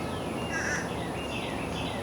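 Crows caw a few times outdoors, thin calls that sit under a loud, steady wash of wind-like noise for a couple of seconds.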